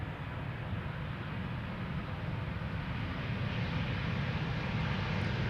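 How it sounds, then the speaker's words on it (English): KLM Airbus A321neo airliner engines making a steady broadband roar that slowly grows a little louder, heard at a distance with no speech. "It's an A321neo."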